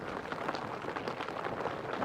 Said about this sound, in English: hammering down with rain